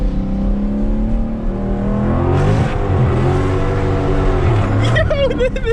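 A car with a 392 engine and deleted mufflers revs loudly, its deep exhaust rumble rising and falling steadily for several seconds, up close and with no talk.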